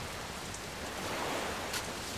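A steady, faint wash of rain, soft and even throughout with no voices over it.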